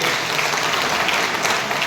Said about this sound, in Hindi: इसके लिए आप तालियों से एक बार स्वागत करें।